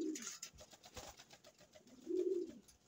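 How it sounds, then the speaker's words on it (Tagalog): Pet pigeons coo softly at a moderate distance, with two low, rolling coos separated by a pause and light fluttering or shuffling in between. "Ayan ang mga ibon natin."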